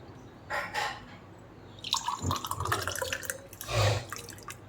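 Measured water poured from a cup into rice for mutton biryani, with soft splashing and trickling in short pours, close and fairly quiet, no talk.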